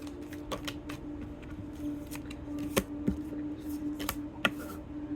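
Tarot cards being shuffled by hand, with soft riffling and scattered sharp card snaps over a steady low hum, fairly quiet and close, with no talking.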